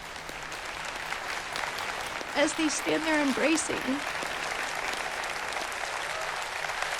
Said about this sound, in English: the audience claps in a standing ovation